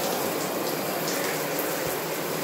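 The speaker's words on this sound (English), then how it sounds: "Y'all gonna see me turn on my shower, of course." A home shower running at full flow, giving a loud, continuous broadband hiss of spraying water that holds steady without breaks and has no voices over it.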